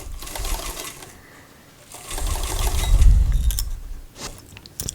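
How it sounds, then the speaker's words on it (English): Sewing machine stitching through stretchy sweater fabric, passing over strips of masking tape, with a running mechanical whir that swells and fades in bursts. "I'm just sewing right over. If you happen to hit some of that masking tape, it doesn't bother the needle at all."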